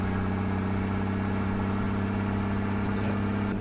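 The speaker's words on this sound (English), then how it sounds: "This is a special engine, if you've driven the ISX EGR." Steady, loud drone of a Cummins ISX EGR heavy truck engine in American Truck Simulator, a constant low hum with layered harmonics, holding near-even revs with only a slight shift near the end, no voices.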